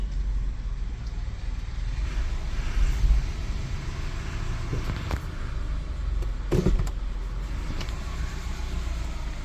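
A bugeye sports car being driven after sitting unused for a long time: a low engine rumble with road noise, a few brief louder bumps and clatters, and no talking.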